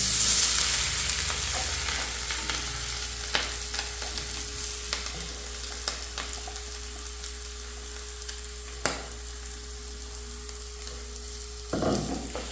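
Ground coconut masala paste hits hot oil with popped mustard seeds in a pan for banana-flower thoran, setting off a loud, steady sizzle with scattered scrapes and clicks of a spoon, close and without voices.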